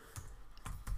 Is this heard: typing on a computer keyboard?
yes